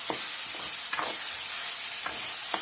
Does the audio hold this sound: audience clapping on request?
no